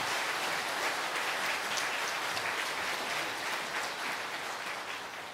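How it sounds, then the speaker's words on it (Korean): Congregation applauding during a Korean Sunday church worship service, a warm continuous wash of clapping heard from a distance, fairly faint and fading slightly at the end. "우리 박수 한번 뜨겁게"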